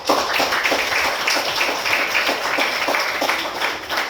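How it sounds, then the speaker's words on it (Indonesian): An audience at a teacher-training session in Physics Education at Universitas Lambung Mangkurat claps together, with a steady, evenly paced run of sharp claps that stays loud and close throughout. "Tepuk tangan untuk kalian"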